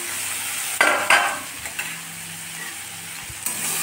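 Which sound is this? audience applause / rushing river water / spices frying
spices frying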